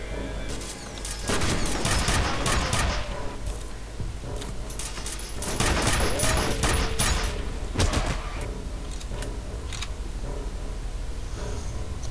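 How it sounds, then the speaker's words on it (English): Impact grenade blasts and bursts of gunfire in the first-person shooter F.E.A.R., with sharp repeated bangs and crackling shots clustered early and again midway, trailing into quieter debris and ambient game noise. "I love those impact grenades."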